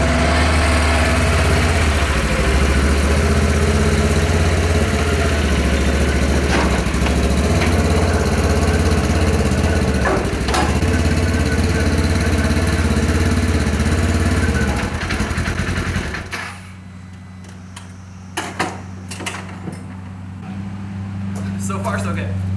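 A rock bouncer off-road vehicle's engine runs loud and close for about fifteen seconds while driving up ramps, rumbling with a shifting pitch, then cuts to a quieter idle with a few knocks and clunks.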